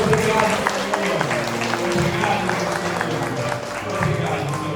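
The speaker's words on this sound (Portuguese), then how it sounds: "Uma salva de palmas para Jesus" A church congregation at a Sunday evening service claps together in sustained applause, a loud, dense patter of many hands with voices mixed in.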